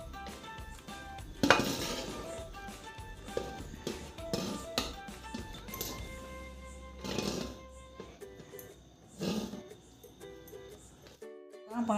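Aloo dum biryani served onto a plate in a home kitchen, with repeated close metallic clinks and scrapes of a spoon against dishes and pots, some sharp taps standing out, under faint background sound.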